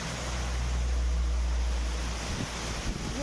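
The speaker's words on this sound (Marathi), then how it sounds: "एक सुरुवातीक लहान धबधबा" A small waterfall at Amboli in lush monsoon greenery gives a steady, broad rushing roar of water that stays close and even throughout, with no pauses.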